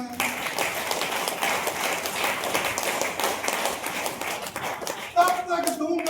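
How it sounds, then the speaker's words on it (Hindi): Audience clapping at a motivational gathering, a scattered, uneven patter of hands heard under ongoing talk, fading toward the end as the speaker's voice takes over again. "बजा दो सब, ताली बजाना है।"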